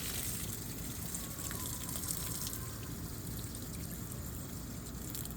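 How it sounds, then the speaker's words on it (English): Rainwater is poured out of a paint can outdoors, a steady close gushing and trickling stream that runs evenly throughout without pause. "Let's go ahead and pour this out."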